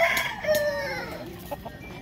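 An Aseel rooster crows once at a village market, a loud falling call close by, followed by a few clucks and faint background murmur.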